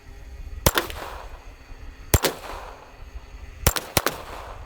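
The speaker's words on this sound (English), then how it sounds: "I'm gonna actually take a shot at the motor now." .22 long rifle gunshots fired at a car's motor outdoors, three sharp cracks spaced about a second and a half apart, the last a quick double, each with a short ringing tail over steady background noise.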